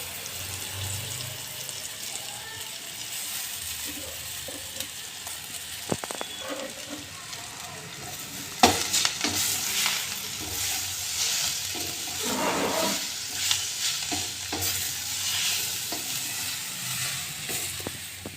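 Chopped vegetables fry with turmeric and green chili paste in a pan, a steady hissing sizzle broken by spoon-stirring scrapes and a few knocks, growing busier midway, with no talk.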